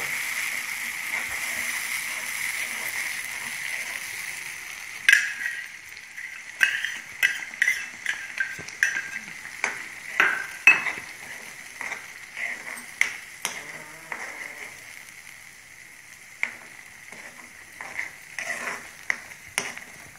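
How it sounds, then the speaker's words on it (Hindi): Red chilli paste cooks in oil with ginger for a chutney, giving a soft background hiss that is broken by a long run of irregular scraping and clinking as a spoon stirs the pan. "इसको हमने तब तक पकाना है जब तक हमारा तेल ऊपर ना आ जाए।"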